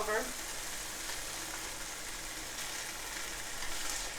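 Chicken breasts sizzle in a pan while cooking on one side, a continuous close frying hiss over a low background hum.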